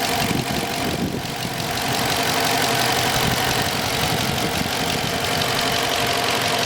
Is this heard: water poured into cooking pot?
no